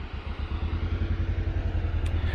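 Kawasaki Mule Pro FX utility vehicle engine idling close by, a steady rhythmic low chugging pulse with a faint clatter, running alone without talk.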